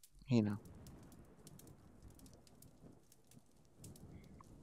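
Steady soft rain pattering in a wooded setting within the Rainy Room of the Vistascapes VR game, faint and continuous after a brief loud thump at the start.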